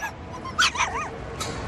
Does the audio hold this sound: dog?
yes